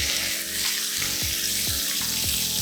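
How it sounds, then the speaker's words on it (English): Chicken for fajitas sizzles loudly in a hot pan over high heat, a steady hiss and crackle that runs throughout with no talk. "So that sound, that sizzle you hear, that's what we're looking for."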